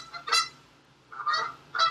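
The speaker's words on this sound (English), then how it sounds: "there's a bunch of geese outside my window, like, screaming right now." Geese honk outside a window, three loud, harsh calls spaced roughly evenly over two seconds, fairly close and standing alone without talk.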